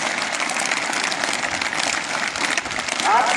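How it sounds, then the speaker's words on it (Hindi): An audience at a school event in Uttarkashi claps continuously and densely throughout, loud and close. No individual voices stand out over the applause. "आपकी तालियां जो है ये गूंज पड़ेगी"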